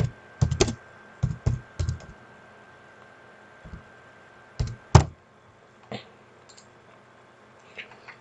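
Short bursts of clicky typing on a computer keyboard while text is entered into an income field, close and fairly loud, with quiet pauses between the flurries and no talking.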